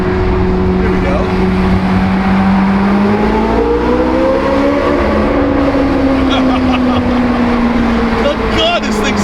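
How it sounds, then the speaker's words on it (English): A Chevrolet Corvette C8 Z06 fitted with an AWE exhaust and Eventuri intake roars loudly as it drives through the Squirrel Hill Tunnel in Pittsburgh, its engine note rising and falling steadily with heavy tunnel echo and no talking. "You add the AWE exhaust and the Eventuri intake, and this thing is just freaking nuts."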